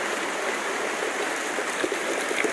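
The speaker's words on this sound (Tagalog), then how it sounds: "Sobrang lakas talaga ng ulan dito." Heavy rain pouring nonstop, a dense, loud, even hiss of falling water that holds steady throughout with no voices.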